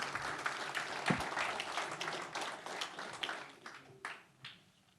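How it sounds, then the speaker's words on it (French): Audience applause at a French economics lecture, steady clapping heard faintly and at a distance, tapering off toward the end. "Je vous demande à nouveau de les applaudir chaleureusement."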